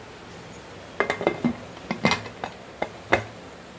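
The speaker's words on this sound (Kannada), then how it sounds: "ಇವಾಗ ಇದನ್ನು ಕುಕ್ಕರ್ ಮುಚ್ಚಳ ಮುಚ್ಚಿ" A metal pressure cooker lid is fitted and closed over vegetable rice, giving a quick run of close, sharp metallic clinks and clanks.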